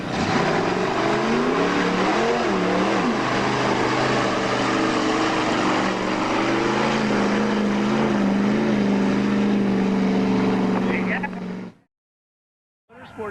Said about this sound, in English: 1974 Ford Bronco with a fuel-injected 302.